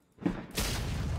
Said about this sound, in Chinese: 你家咋放炮了？